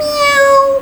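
A woman reading a children's story aloud imitates a cat with a single drawn-out, clear vocal meow, close and loud, gliding slightly downward in pitch before cutting off.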